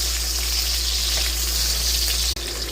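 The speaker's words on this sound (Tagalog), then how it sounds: "Ginisa ko muna ang onion" Onion sautés in a pan for chicken soup noodles, giving a constant close, loud sizzle with a brief dropout near the end and no voices.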